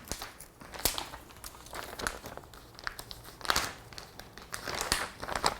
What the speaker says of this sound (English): so let's rip it open and see what we got.